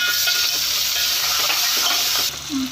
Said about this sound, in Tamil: நம்ம மட்டன் சேர்க்கணும் இப்போ நல்லா வதக்கிடலாம் எல்லாமே நல்லா வதங்கிடணும்